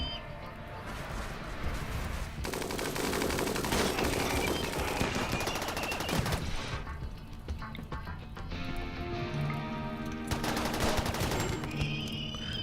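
Gunfire in the RimWorld colony game, with stretches of dense crackling automatic shots and scattered bursts layered under game music and effects, fairly steady and moderately loud.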